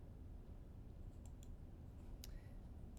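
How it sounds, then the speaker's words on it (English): Computer mouse clicks, a few quick light ticks scattered through a quiet room with a steady low hum beneath. "I'm going to right click,"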